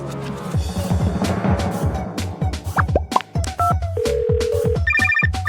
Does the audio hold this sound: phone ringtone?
yes